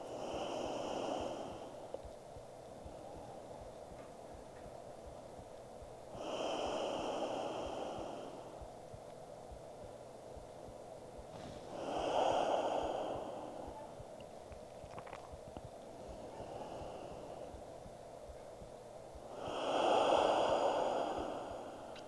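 Slow, deep breathing during trauma-informed yoga practice: four long, audible breaths, each a soft rushing inhale or exhale several seconds apart, close and quiet with calm pauses between them.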